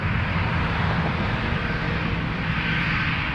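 A Boeing Dreamliner jet at Toronto Pearson Airport gives a steady, loud engine roar with a low rumble throughout, continuous and close, with no talk over it.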